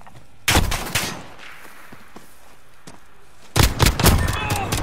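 First-person shooter gunfire in a 2v2 gunfight match: two loud bursts of rapid automatic shots separated by quieter game ambience with faint distant pops.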